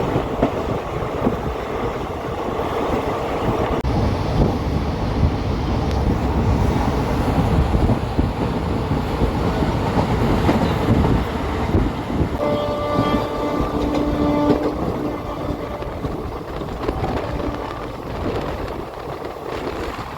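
The Madurai Intercity Express from Coimbatore to Madurai rumbles steadily along the rails, heard from on board as a loud, continuous roar of wheels and carriage noise with a faint horn partway through.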